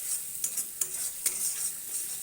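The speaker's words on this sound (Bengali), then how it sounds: "এখন প্রায় ভাজা হয়ে আসছে" Spice paste mixed with yogurt fries in oil for an egg kofta curry, a soft continuous sizzle punctuated by several sharp scrapes of a spatula stirring against the pan.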